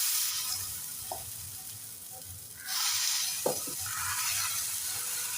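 Dosa batter hits a hot, oiled pan and breaks into a loud close sizzle midway, following quieter oil hissing and a couple of light clinks as it is spread out.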